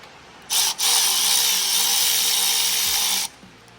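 A power tool whirs steadily as it runs bolts into a Duramax diesel Y-bridge, starting with a brief blip, then one continuous loud, close, high-pitched spin of nearly three seconds before stopping.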